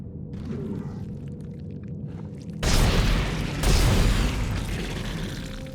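Gunfire in the video game Dead Space 2: two heavy, booming shots about a second apart over a constant low game rumble, each followed by a lingering roar, with no talking.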